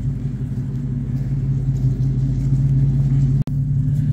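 A Ford Mustang Dark Horse with a Corsa H-pipe exhaust idles with a deep, steady burbling rumble, close and loud, holding an even low drone with a brief dropout near the end.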